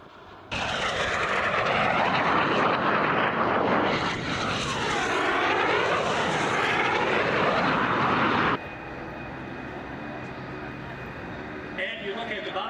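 Jet race planes arriving at the Roswell air races pass with a loud, sweeping engine roar that rises and falls for several seconds, then gives way to a steadier, quieter hum.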